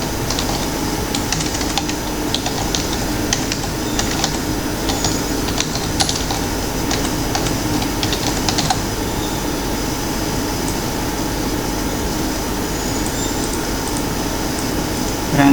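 Computer keyboard typing during an informatics exercise: fast, close key clicks come in bursts for about nine seconds over steady background hum, then the hum carries on alone.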